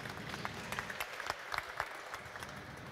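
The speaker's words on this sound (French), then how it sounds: "Vous pouvez l'applaudir." Audience at a talk on machine learning for startups applauding the speaker, scattered individual claps over a soft background, faint and spread out like a small seated crowd.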